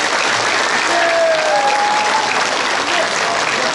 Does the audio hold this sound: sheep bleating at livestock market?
no